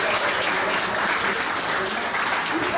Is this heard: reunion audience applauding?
yes